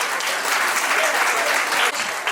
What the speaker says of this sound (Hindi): तालियां बहुत जोर से बजनी चाहिए।